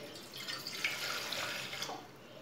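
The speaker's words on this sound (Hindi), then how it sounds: "एक गिलास पानी डाल लेंगे" A glass of water being poured into a pot of black lentils for khichdi, a soft, steady splashing trickle lasting a couple of seconds, fairly quiet and without talk.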